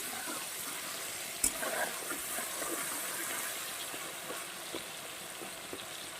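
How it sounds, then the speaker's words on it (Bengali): Tomato and stone-ground spices fry in a pan with a soft, continuous sizzle, low and fairly faint, broken by a few light clicks and stirring knocks. "তো টমেটোটা একটু ভাজা ভাজা হয়ে গেলে"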